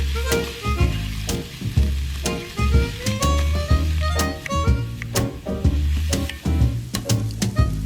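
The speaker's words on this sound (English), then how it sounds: "let's head on over to our skillet and brown that sausage up till it's thoroughly cooked" Sausage sizzles and crackles as it browns in a skillet, with loud, steady frying hiss punctuated by sharp pops and the scrape of stirring, close up and with no voices.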